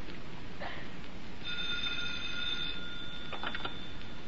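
A telephone rings in an old radio drama, a steady electric bell tone sounding for about a second and a half and fading into a faint hiss-filled background.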